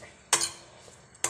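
Curry paste is slowly dry-roasted in a pan over low heat, with two distinct scrapes of a utensil against the pan over a faint background hiss.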